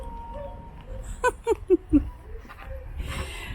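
A dog gives four quick, yelping barks in a short rhythmic burst, moderately distant over an outdoor background hum.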